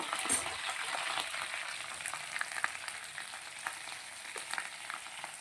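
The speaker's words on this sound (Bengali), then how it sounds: "রসুন বাটা আদা বাটা একটু নেড়ে চেড়ে নিব" Garlic and ginger paste stirred and fried in a pan for a prawn malai curry, a soft crackling sizzle with scattered scraping clicks of the spoon, fairly quiet and unbroken.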